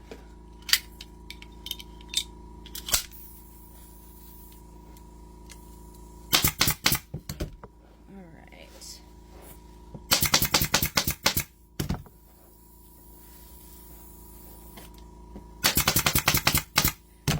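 A staple gun fires in quick bursts of sharp clicks and clacks, punching staples through upholstery fabric into a dining seat, with quiet pauses between the rapid runs of shots.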